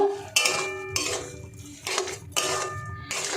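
Carrots cook in sugar in a pot while a spoon stirs them, making repeated metallic scrapes and clanks in short bursts with a faint simmer underneath.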